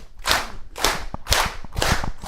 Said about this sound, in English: let's get a clap